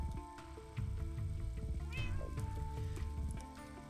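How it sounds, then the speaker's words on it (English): A cat in the Minecraft 1.8 video game meows inside a house, one short mew over a busy backdrop of game sounds and tonal music, moderately loud. "There's a cat in the cat box."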